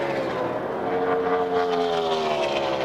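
A NASCAR stock car with a Hendrick engine that is not running quite right, heard during the final laps of the 2003 Samsung Radioshack 500, its loud engine drone rising and falling in pitch as it passes.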